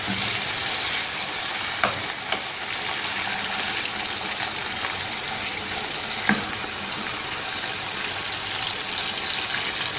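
Chicken for a Shinwari karahi fries in a pan, a dense, continuous sizzle close by, punctuated by a few scraping knocks as it is stirred.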